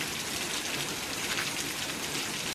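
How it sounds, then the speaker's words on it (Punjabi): Dense, steady patter of hailstones striking surfaces in a town, a continuous loud hiss-like drumming with no pauses throughout. "ਦੇਖੋ ਕੱਲੇ ਹੀ ਗੜੇ ਪੈ ਰਹੇ ਨੇ ਜੀ"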